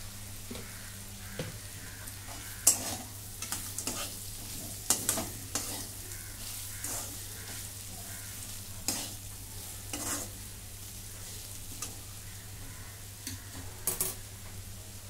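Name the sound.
stirring bitter gourd sabzi with crushed peanuts in a pan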